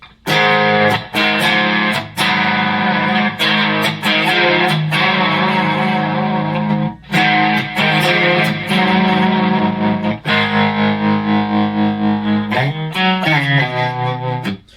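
Overdriven electric guitar through the Enya Nova Go Sonic's overdrive preset, playing loud, gritty chords and riffs with sustained ringing notes and brief pauses between phrases.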